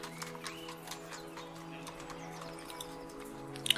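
In the video game A Place for the Unwilling, a horse's hooves clip-clop softly in a steady rhythm under a sustained musical drone, with a brief sharper knock at the end.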